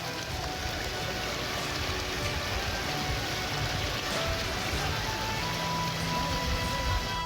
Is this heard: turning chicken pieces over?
no